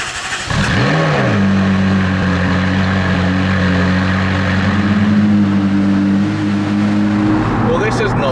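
A McLaren 675LT starts from cold, its engine catching with a sharp flare and then settling into a loud, steady, high fast idle that holds for several seconds close by.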